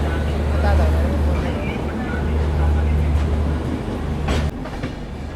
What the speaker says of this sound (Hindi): हमारी ट्रेन निकल चुकी है न्यू दिल्ली रेलवे स्टेशन से।